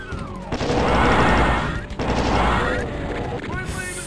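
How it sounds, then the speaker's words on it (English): Monsters trading gunfire in the classic shooter Doom II: two loud, rapid volleys of crackling shots, each lasting over a second, ring out close and dense before tapering to quieter game noise. "did they just shoot each other?"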